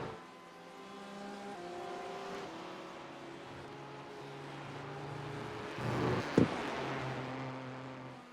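On the Mulsanne straight of the Le Mans circuit in the iRacing game, a race car engine drones in steady shifting tones, then a brief sharp burst marks another car passing close by.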